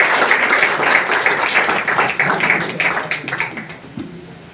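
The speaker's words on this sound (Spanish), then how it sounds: "Dale un aplauso al Señor." A church congregation claps for the Lord in a dense, loud burst of many hands that gradually thins and fades toward the end, with faint voices mixed in.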